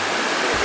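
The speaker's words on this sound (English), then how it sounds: "This is the second biggest waterfall in Africa." Ouzoud waterfall in Morocco sends a steady, loud roar of rushing water, broadband and continuous through the whole brief moment.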